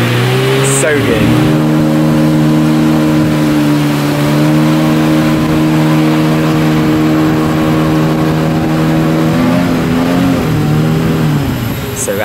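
Motor boat powering upstream on a shallow rainforest river in Mulu National Park, Sarawak, Malaysia: a steady, loud, droning outboard engine hum with slight pitch shifts, continuous throughout, with a voice talking over it.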